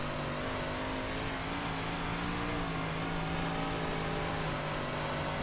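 Dirt-track 358 modified race cars roar in the iRacing sim, a dense, continuous engine drone with steady sustained pitch from several cars running together.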